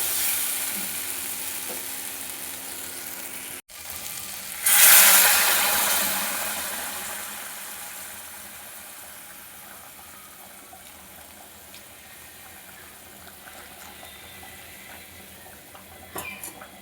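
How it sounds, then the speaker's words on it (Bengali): Hot water poured into spice paste frying in a pan for a fish curry with taro, giving a sudden loud sizzling hiss that gradually fades into a steady simmer, with a few faint clinks near the end. "এবার এর মধ্যে দিয়ে দেবো গরম জল।"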